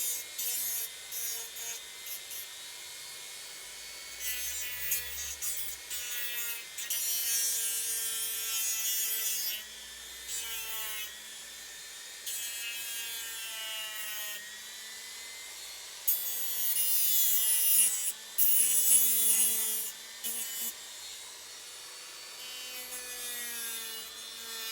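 Veneer wood on a 1:84 Santisima Trinidad model ship hull is sanded by hand in repeated bursts of dry scratchy rubbing, close and clear, with quiet pauses between strokes.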